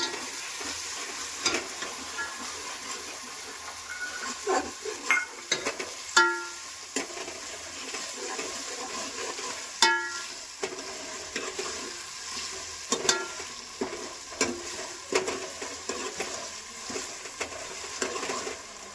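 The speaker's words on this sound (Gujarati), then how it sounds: "આ રીતે વઘાર કરીને બધી વસ્તુ એડ કરી દેવાની" Green peas are tempered and stir-fried in a pan for a spiced rice dish, giving a continuous sizzle broken by repeated scraping and clinking stirs, close up and fairly loud, with no voices.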